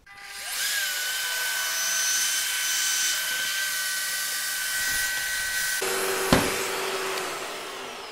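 A power drill whirs steadily as small wooden plates are bored through a drilling template for a shelf for Tonie figures, a loud continuous motor hum that drops away near the end, followed by a sharp tap.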